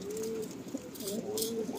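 Deep-eyed male Madrasi pigeon gives a soft, steady coo, two drawn-out low notes separated by a brief pause, close by and alone without any talk.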